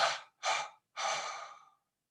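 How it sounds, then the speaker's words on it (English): Three gentle breaths are exhaled in a breathing meditation exercise: two short soft exhalations followed by a longer trailing one, close and quiet, with brief pauses between. "we're going to do 3 exhalations in a gentle manner"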